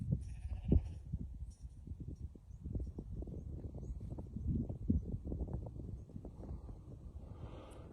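Sheep bleat in a field during sheepdog training, with scattered calls, fairly faint and at a distance. Gusts of wind buffet the microphone between the calls.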